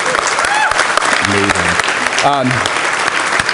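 Conference audience at a PyCon 2012 keynote breaks into steady, dense applause throughout, with a speaker talking over the clapping.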